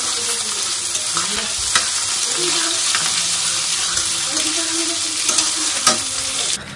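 Mutton biryani ingredients frying on high flame in a pan, loud continuous sizzling with scraping stirring strokes, heard up close and alone for several seconds.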